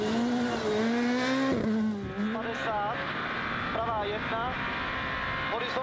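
A Skoda S2000 rally car at a rally in Cyprus passes with a rising and falling engine note and gear-change drops, under steady commentary from an announcer.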